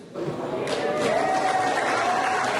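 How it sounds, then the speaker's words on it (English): A crowd at an Oklahoma primary election night celebration in Bixby breaks into applause and cheering, swelling quickly after a brief quiet start and holding steady and fairly loud. "the main line that drew the most applause, I would say, from the crowd here tonight"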